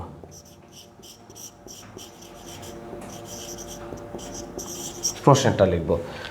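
A pen scratches on paper in quick, faint strokes against quiet background noise, and a voice breaks in louder near the end.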